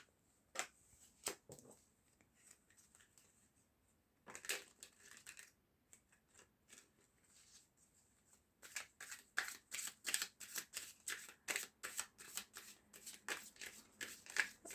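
Tarot cards are shuffled close by in a quiet room, first a few sparse flicks and taps, then a dense run of rapid riffling snaps toward the end.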